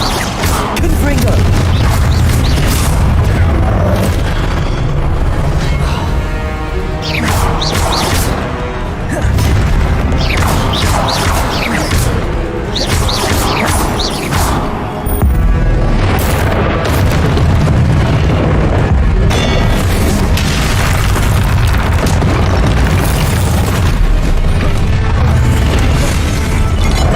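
Repeated booming explosions from Confringo blasting spells in the video game Hogwarts Legacy, loud and dense, pile up with crashes and bursts over nearly half a minute of continuous combat, with voices underneath.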